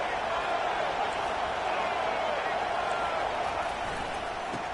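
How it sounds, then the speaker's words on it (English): A constant, far-off roar of a stadium crowd in the College Football 25 video game, steady and broad with no distinct peaks, running beneath commentary voices. "This crowd bringing the energy and noise early."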